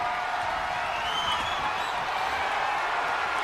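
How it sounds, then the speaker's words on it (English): Crowd in the WWE 2K25 wrestling video game cheering during a match, a steady, dense roar of many voices that holds at an even level throughout with no single voice standing out. "Listen to this crowd."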